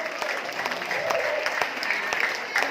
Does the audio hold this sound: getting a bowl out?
no